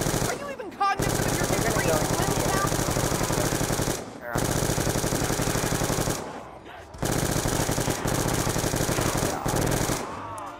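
Sustained automatic gunfire aimed at zombies in Black Ops 2, long unbroken bursts of rapid shots that are loud and close, with brief pauses between three main volleys.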